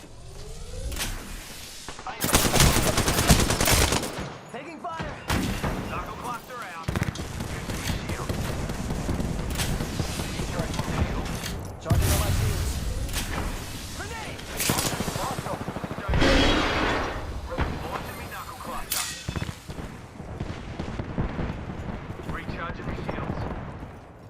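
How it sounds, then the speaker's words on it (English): Gunfire in the video game Apex Legends, with bursts of loud shots and impacts running almost continuously, mixed with game effects and some talk. "They're shooting at me"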